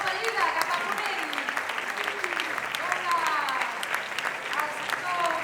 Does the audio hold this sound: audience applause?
yes